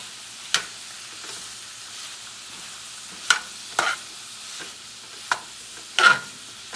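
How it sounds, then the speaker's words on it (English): Sausage and bell peppers searing in a pan, heard as a low steady sizzle broken by several sharp scraping stirs of a utensil against the pan, close and clear with no talking. "I'm just trying to get my sausage seared and get my bell peppers translucent"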